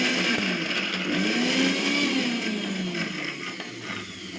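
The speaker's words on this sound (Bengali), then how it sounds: "একটু বেশি করে রসুন আর আদাটা দিয়ে তো মিক্সিতে একটু নিয়ে নিচ্ছি" An electric mixer grinder grinds garlic and ginger without water, a loud continuous motor whine that rises and falls in pitch as the blades work the paste, with no talking.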